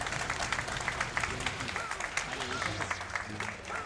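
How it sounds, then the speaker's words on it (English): Audience applause for a speedrun of the game Jedi Knight: Jedi Academy at a live gaming event, a moderate ripple of clapping from a crowd, fairly distant and mixed under ongoing talk. "You can clap, you can clap."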